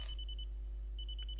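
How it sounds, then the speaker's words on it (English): A Walkman's alarm beeps faintly in two short bursts of high electronic tones separated by a brief pause, quiet and thin against a low steady hum. "here is my Walkman's alarm going off."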